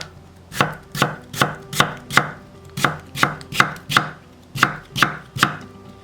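A kitchen knife slices mushrooms into half-centimetre pieces on a cutting board, about fourteen crisp, close chops in a steady, even rhythm with no talk.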